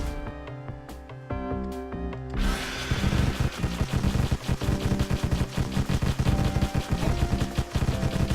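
Gunfire in the video game Deathstate. Rapid repeated shots rattle in a dense burst over the game's music, loud and continuous after a brief quieter musical opening.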